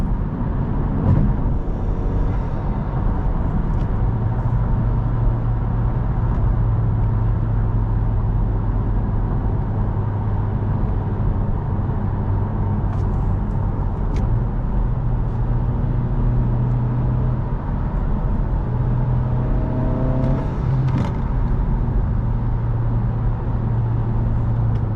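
Turbocharged Honda Civic Si cruising with a steady, loud engine drone and intake whoosh throughout, low tonal hum rising and falling slightly as it drives.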